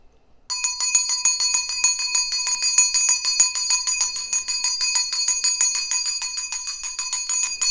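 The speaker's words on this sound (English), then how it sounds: "I clear the energy with the bell" A small metal bell rings continuously in a rapid, steady tinkling for several seconds, bright and close, with no talk over it.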